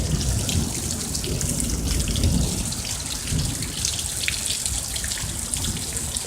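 Heavy rain pours outdoors during a thunderstorm, a dense, continuous hiss of drops hitting surfaces, loud and close, with no talking.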